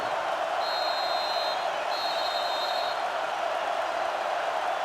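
A sellout college football stadium crowd in a video game roars as a constant, dense wash of noise, with a faint whistle-like tone rising out of it twice.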